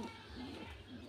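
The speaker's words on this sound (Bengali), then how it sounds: "এই যে সেই আমার কবুতরের ঘরগুলা এখানে দেখছেন কবুতরগুলো বসে আছে" Pigeons in their coop give soft, low cooing calls, faint and close, against a murmuring background.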